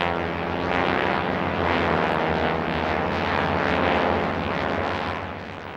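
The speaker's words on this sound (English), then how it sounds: "In this case, Stearmans." A squadron of Stearman biplanes drones overhead, radial engines and propellers roaring in a loud, steady rumble that swells and eases slightly as they pass, with no voices.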